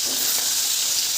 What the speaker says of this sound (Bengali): তো মাছগুলোকে একটু ফ্রাই করে নিই